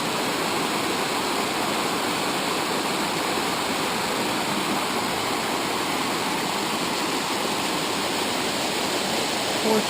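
A creek cascade below an impounded pond pours steadily, a dense, close, unbroken roar of falling water that holds level for the whole stretch with no talk.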